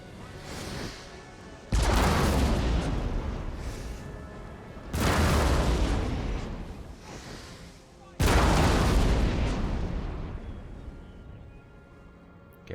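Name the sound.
cannon fire from artillery guns in Napoleon Total War video game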